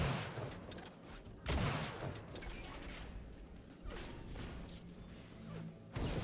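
Flak cannon blasts in a competitive Unreal Tournament match: two sharp, loud broadband bursts about four and a half seconds apart stand out over constant busy gunfire and action noise.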